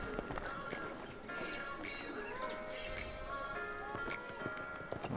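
Horse hooves clip-clop across an arena during a show jumping round at the FEI Jumping World Challenge in Polokwane, 2023. The steady hoofbeats sit in a dense, busy background with no talk.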